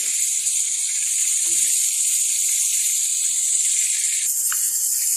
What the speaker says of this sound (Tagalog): Habang nag-prito tayo naman ng tilapia na isasahog natin.